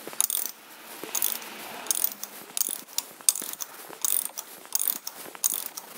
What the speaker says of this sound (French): je viens de faire plusieurs tours à la main au moteur